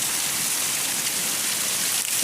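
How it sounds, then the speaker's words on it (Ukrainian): Heavy rain mixed with hail pounds steadily in a dense, unbroken roar during a summer storm in western Ukraine, loud and close with no voices. "Друга волна з градом."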